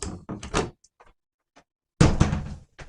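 A small cupboard door from an old, weathered Coachman caravan is handled, giving a couple of close, quick wooden knocks and rattles, a brief pause with faint ticks, then a louder clack and rattle as it closes.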